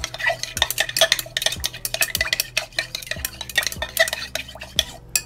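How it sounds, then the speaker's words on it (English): A facial and body mist mixture being stirred by hand, brisk repeated clinks and scrapes of a utensil against a container in a quick, even rhythm, close and fairly loud with no talking. "Mix it well."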